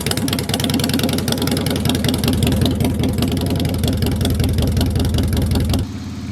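A Harley-Davidson Softail motorcycle's exhaust rumbles close up in a loud, rapid, lumpy pulsing idle that runs steadily and then drops off abruptly near the end.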